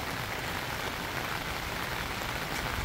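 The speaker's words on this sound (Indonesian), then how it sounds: "kondisi di luar hujan lagi cukup deras" Heavy rain pours steadily outside a family campsite at Kancana Mandira, Cidahu, Sukabumi, in the evening: a dense, constant hiss of drops drumming on surfaces, close and even throughout with no voices.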